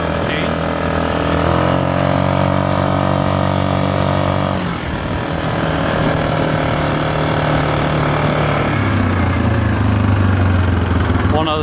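Yamaha Grizzly ATV quad bike engine revving loud and close, rising in pitch as it accelerates at half throttle, then settling and revving again with a steady drone throughout.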